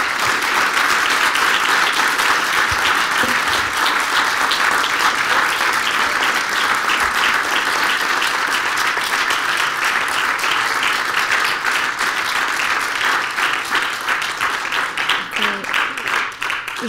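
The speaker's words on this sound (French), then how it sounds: "vous applaudissez timidement ou pas?" Sustained audience applause in a conference hall after a talk about a film, steady and loud throughout, with dense clapping that thins slightly toward the end.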